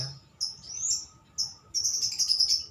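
Caged songbirds, with one bird placed in the middle and eight others around it, give bursts of high, bright chirps and trills that start and stop in quick succession. The birds sound close and there is no talk.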